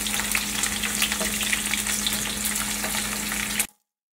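Garlic sautéing in oil in a pan until light golden for Schezwan sauce, a steady close sizzle with crackles throughout, cutting off abruptly near the end.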